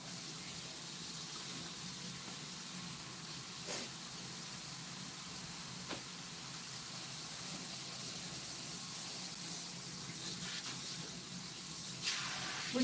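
Water runs from the tap of a hair salon sink in a steady, soft hiss, continuous and moderately quiet, with a few faint knocks and handling sounds near the end.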